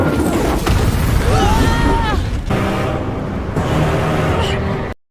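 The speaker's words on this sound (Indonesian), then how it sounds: "Tiba-tiba sebuah meriam meledak di dekat mereka." Animated cannon blast in a Kung Fu Panda battle scene: a loud, booming explosion with heavy low rumble and debris, followed by whooshing and a second impact before cutting to silence.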